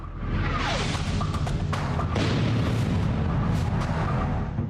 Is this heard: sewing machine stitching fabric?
no